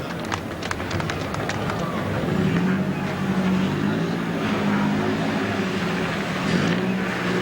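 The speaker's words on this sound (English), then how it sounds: "the crews clear the grid, the engines fire up" Race car engines fire up and idle together on the starting grid at Bathurst's Mount Panorama before the 2003 24 Hour race, a loud, steady, dense engine drone that swells slightly and holds, with faint voices in the background.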